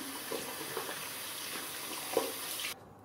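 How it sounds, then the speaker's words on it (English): A running tap splashes water in a sink as someone rinses off after a wet shave, a steady close hiss with small splashes that stops abruptly near the end. "So I'll just rinse off and I'll be back with you now."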